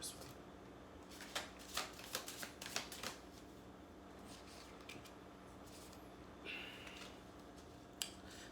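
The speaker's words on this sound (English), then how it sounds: "Let's do one last shuffle." Tarot cards being shuffled by hand, a quiet run of crisp riffling flutters and taps clustered near the start, then lighter scattered card sounds over a faint room hiss.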